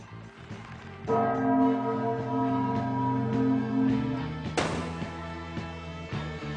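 A clock chimes the hour with a series of loud, ringing bell-like tones that overlap and sustain, followed by a sharp fresh strike near the end; no talking over it.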